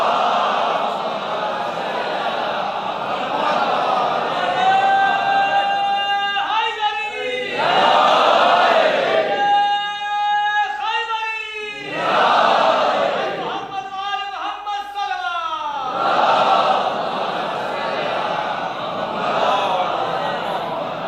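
A majlis gathering recites durood in unison, with several loud chanted waves of many voices rising and falling, separated by brief pauses.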